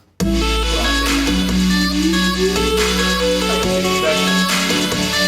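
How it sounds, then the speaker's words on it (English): Music playing with a narrow, warbling EQ frequency sweep gliding upward through the tones during mastering, giving a whistly, resonant sweep over the steady instruments. "Yeah, that warbling sound you're hearing?"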